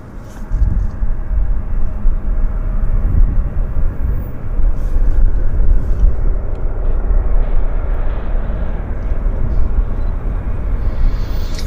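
An airliner taxis slowly at Vancouver Airport, a steady low engine rumble held at a fairly constant loudness throughout, with no talk over it.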